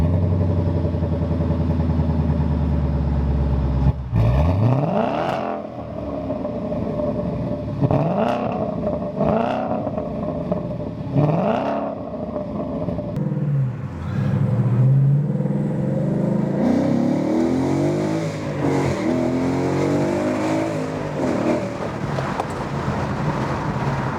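A 2014 Mustang GT with a 412-horsepower 5-liter engine and Holley Sniper EFI accelerates, its exhaust rising in a steady rumbling drone with repeated rev swells through the gears, loud and close throughout.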